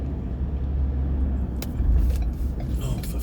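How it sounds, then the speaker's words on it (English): Cars pass on a road as a constant low rumble of traffic, fairly close, with a swell of louder passing noise midway, heard from near the roadside. "too many cars on the road"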